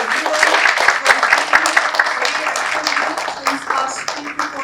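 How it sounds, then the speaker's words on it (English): An audience at a medical conference on endocrinology and diabetes applauds the faculty, scattered clapping in uneven bursts rising and thinning, with talk mixed in. "A big round of applause for everyone."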